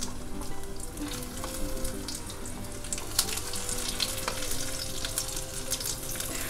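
Stuffed okra fries in a pan over low gas, a continuous crackling sizzle with bursts of spattering and faint stirring or clinking, plus a steady hum underneath and no talking.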